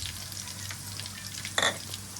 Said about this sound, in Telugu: అలా బాగా పచ్చిమిర్చిని వేయించుకుంటే చాలా టేస్ట్ బాగుంటుంది